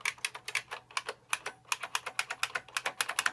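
Rapid typing on a Unicomp Classic 101-key buckling-spring keyboard, a close, crisp stream of loud clacky keystrokes in uneven bursts with a short pause midway.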